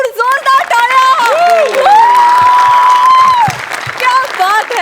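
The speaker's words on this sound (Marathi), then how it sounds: "जोरदार टाळ्या" An audience at a Marathi comedy show breaks into loud, sustained applause and cheering, dense clapping filling the room while a voice rings out over the crowd.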